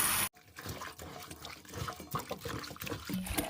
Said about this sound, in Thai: ขยำนี่แล้วก็เทน้ำออกแล้วก็ล้างน้ำใหม่นะคะ